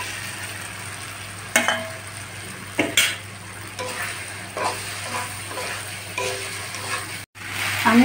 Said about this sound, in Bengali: আমি মশলার সঙ্গে ফুলকপি আলুটা ভালো মতো কষিয়ে নিয়েছি।